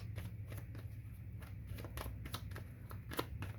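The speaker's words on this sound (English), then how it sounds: "shuffle and see if I can get a few more cards" Tarot cards are shuffled by hand, giving a quiet run of crisp riffling snaps and flutters repeating in uneven bursts, close and soft.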